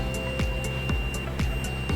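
A car's radiator cooling fan hums steadily nearby, with a soft, regular ticking pulse repeating several times a second over the drone.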